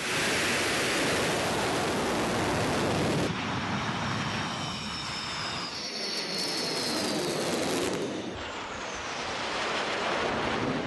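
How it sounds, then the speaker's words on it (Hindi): Rafale and Sukhoi fighter jets roar over Jodhpur, a loud, continuous broadband engine rush that shifts in tone partway through and keeps going without pause, with no voices. "जोधपुर का आसमान इन दिनों दुनिया के सबसे आधुनिक लड़ाकू विमान राफेल और सुखोई की गर्जना से गर्म है"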